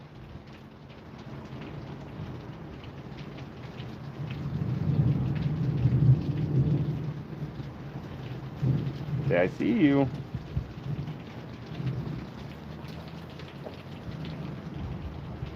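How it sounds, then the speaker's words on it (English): Steady rain falls through a wet night outside a building with an overhang, with rumbles of thunder rising midway; a person speaks briefly over the downpour. "it's a rainy night, so most everybody's gonna be hanging out inside or under the overhang here"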